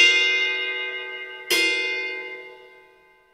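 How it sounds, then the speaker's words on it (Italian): The bell of a Sabian ride cymbal is struck twice, each hit a bright, ringing metallic ping that sustains and slowly decays, the second strike landing midway through the first one's fade, close with no other sound around it. "Questa è la campana"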